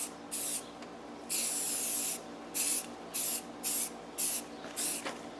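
A spray gun laying a final coat of paint on aluminum car wheels, short hissing bursts repeated in an uneven rhythm, close and fairly loud, with quiet gaps between passes.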